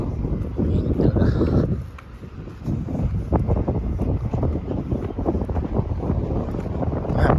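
Steady wind buffets the microphone in a continuous low roar that dips briefly and then returns at full strength.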